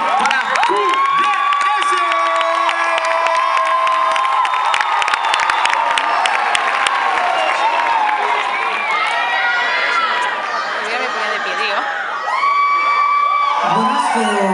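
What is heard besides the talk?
audience applause and cheering for dance studio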